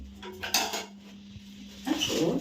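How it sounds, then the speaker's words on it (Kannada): Dishes, pots and utensils are being washed, giving a few close metallic clanks and clatters of steel vessels over a low steady hum, with no talking. "ಪಾತ್ರೆ ತೊಳೆದು ಬರಲೇನ್ರಿ?"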